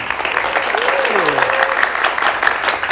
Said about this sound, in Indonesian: Mahasiswa mana tepuk tangannya?